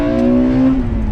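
A 1998 Acura Integra Type R engine pulls hard under acceleration, a loud, steady mechanical drone that rises and then eases off near the end, heard close from inside the car.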